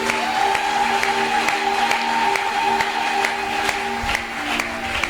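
A church congregation at a Sunday service cheers and applauds together, a steady wash of clapping and voices sustained throughout and dipping slightly near the end, with a sustained organ-like tone underneath.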